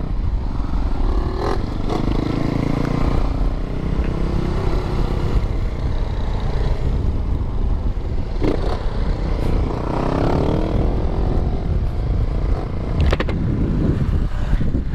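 A Mix 150 motorcycle with a sport exhaust and no air filter runs loudly and close, engine drone rising and falling with acceleration and occasional clattering over about fifteen seconds.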